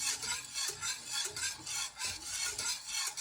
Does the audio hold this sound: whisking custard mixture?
yes